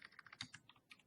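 Quick, light keystrokes on a computer keyboard, a rapid run of close, soft clicks with short gaps and no voices.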